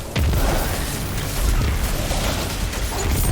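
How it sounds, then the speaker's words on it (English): Rapid booming void ability explosions from the video game Destiny 2 go off continuously in dense, loud bursts, layered with mechanical clatter from combat, with no speech. "there's those other explosions going off. That would be my void explosions for my ability."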